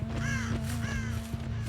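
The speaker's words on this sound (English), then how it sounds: "I hear crows." Crows caw in a video game, two or three harsh, drawn-out calls in quick succession over a low, steady ambient hum.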